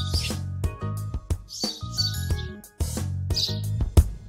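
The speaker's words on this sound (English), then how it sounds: "one with birds, which I've taken from the elements of the City Parks and Gardens ambience kit" Scattered bird chirps and tweets from a city park and garden ambience, several small birds calling in quick overlapping phrases over a low, steady background.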